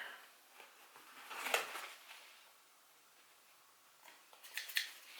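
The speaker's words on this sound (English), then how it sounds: "These are just normal office scissors." Two short, crisp snips of small office scissors trimming excess thread from a sewn fabric mask, spaced a few seconds apart, faint and close with quiet between them.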